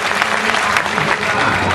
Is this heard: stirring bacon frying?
no